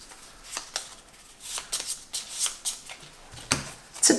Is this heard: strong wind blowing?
no